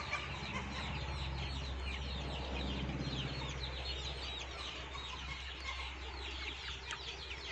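Domestic free-range village chickens on a small farm, a dense chorus of clucking and chirping fowl close by, continuous throughout with a steady low background hum and no talk.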